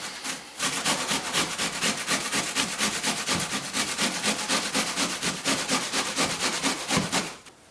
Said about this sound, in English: So we're going to grate this onion right now.